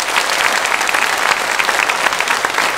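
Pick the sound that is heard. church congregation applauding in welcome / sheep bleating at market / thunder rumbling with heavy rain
church congregation applauding in welcome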